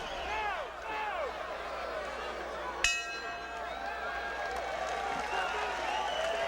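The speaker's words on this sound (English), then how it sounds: "Well, the crowd has certainly gotten into this fight now" A boxing arena crowd in Houston roars and shouts steadily throughout a professional bout, with a single sharp bell clang ringing out near the middle, likely marking the end of a round, over the dense, continuous cheering.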